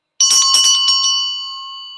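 A Tibetan bell is struck twice in quick succession, its bright metallic tone ringing out clearly and sustaining in a long, smoothly fading shimmer, close and alone.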